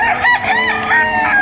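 Roosters crow with loud, ringing, harmonic calls and clucks in quick succession at a budget gamecock sale in Padre Garcia, Batangas. The birds are close and fill the whole stretch without talk.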